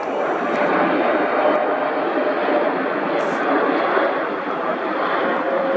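A KLM heavy jet airliner in Royal Dutch livery passes overhead, a loud, steady broadband engine roar that holds evenly throughout with no voices over it.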